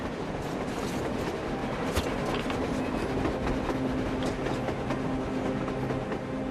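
A train in the video game Metro Exodus rumbles past on the surface with a steady roar and faint clattering, broad and continuous, with a few sharp clanks scattered through.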